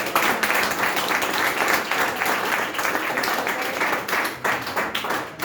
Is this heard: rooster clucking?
no